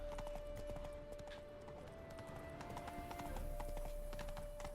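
Hooves of Geralt's horse Roach trotting in The Witcher 3, a steady rhythmic clip-clop over a constant low game ambience with a faint tonal hum.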